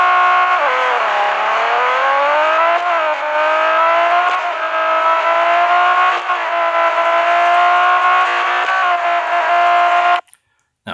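A race car engine in the Real Racing 3 game drones loud and steady at full throttle, its pitch dipping and climbing as it accelerates, before cutting off abruptly near the end.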